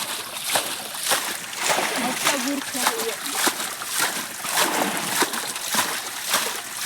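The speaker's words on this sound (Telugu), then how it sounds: "ఫ్రెండ్స్ నేను కూడా చల్లుతున్నాను" Water is splashed repeatedly in a culvert to catch murrel fish, with rhythmic splashes and sloshing close by while voices talk over it.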